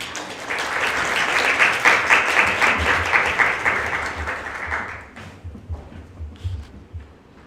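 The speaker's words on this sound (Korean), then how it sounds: "큰 박수 부탁드립니다" An audience applauds at the opening of an academic conference, the full clapping rising at once and running for about five seconds before it thins into scattered claps. A low hum sits beneath it.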